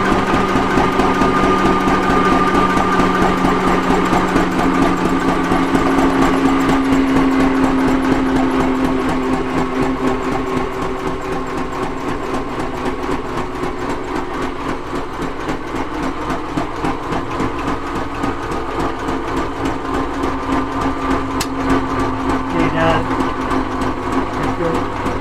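An engine runs steadily with a constant mechanical drone and a fine rapid ticking, holding at an even level the whole time with no clear shutdown, its oil pressure running low.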